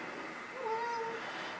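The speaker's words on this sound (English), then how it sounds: "the cat's here" A cat gives one short, faint meow in a quiet room with a radio receiver setup, a thin tone of under a second rising above a steady background hiss, with no talk.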